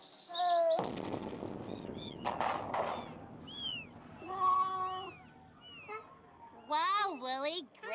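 A cartoon cat in the video game Amanda the Adventurer 2 meows several times in rising and falling cries, mixed with chirpy bird calls and a burst of noise, with talking voices in between.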